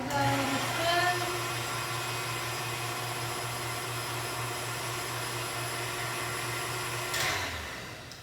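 Electric mixer steadily stirring dry ingredients for pumpkin seed blondies, a continuous close motor whir at even pitch that starts with a brief rise and tails off near the end.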